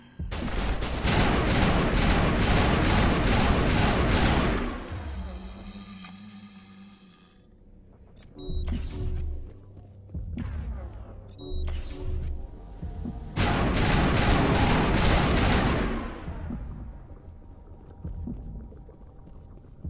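Gunfire from the Mass Effect video game, loud rapid bursts of shots in dense volleys separated by quieter gaps with sharp single reports, mixed with game effects.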